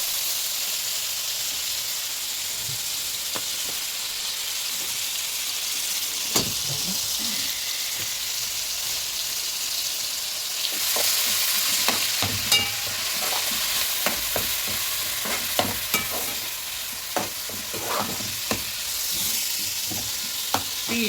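Chopped onions fry in a pan for rice and okra, a steady sizzle broken by repeated clinks and scrapes of a spoon as they are stirred, fairly close, with no one speaking.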